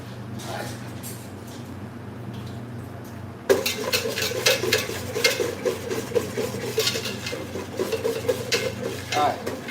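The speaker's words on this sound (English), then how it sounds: "I need a whisk." Metal whisk scraping and clinking against a cooking pot while a roux of flour and fat is stirred, a steady quick rhythmic clatter that starts abruptly after a few seconds of quiet kitchen hum and continues close and fairly loud.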